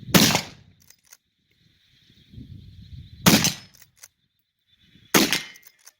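A black powder muzzleloader rifle firing a round ball outdoors over a bog in the wind, with three sharp, loud reports spread over several seconds, each with a short decay, and quiet stretches of faint background sound between them.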